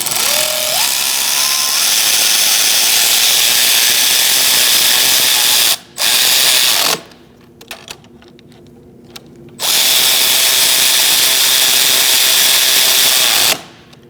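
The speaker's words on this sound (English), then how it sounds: "now we're going to tighten these ones, the brackets, and also torque those." Power tool driving and torquing engine bracket bolts on a 2008-2014 Mercedes-Benz C300 3.0L V6, loud continuous whirring bursts separated by short pauses and ratchet clicks, close up with no talk.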